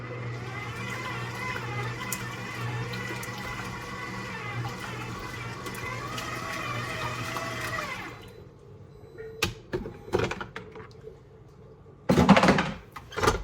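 Homemade butter is washed and squeezed by hand in a bowl of cold water, giving a steady wet sloshing and squelching that stops abruptly, followed by a few scattered knocks and splashes.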